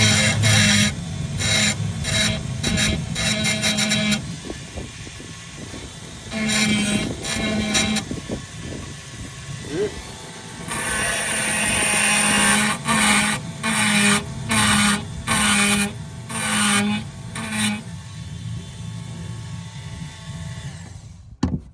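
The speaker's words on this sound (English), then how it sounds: "on this end I got like a small stone to grind that off" Small grinding stone working on an antique bureau under restoration, close rasping bursts that start and stop repeatedly with short pauses, no talk.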